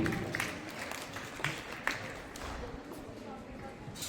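Faint applause from an audience for a student at a school achievers' ceremony: scattered, distant clapping that stays quiet and steady.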